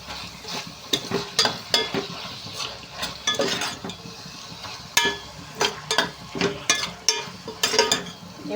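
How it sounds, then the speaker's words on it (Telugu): Ginger, garlic and cumin masala paste fries in a pan for a cashew paneer curry, with a steady sizzle and repeated scraping stirs of a spoon against the pan, close and fairly loud, with no talking. "ఇది ఫ్రై చేసేసుకోవాలి."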